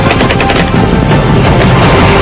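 Soldiers at a beachside joint military drill fire guns in a loud, sustained burst of rapid automatic gunfire that fills the whole stretch, close and dense with no pauses.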